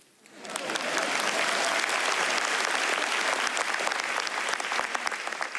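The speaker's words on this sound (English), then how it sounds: "It's okay to clap." An audience at a COMPUTEX keynote in Taiwan bursts into steady, loud applause that quickly swells and holds, many hands clapping together with no talking over it.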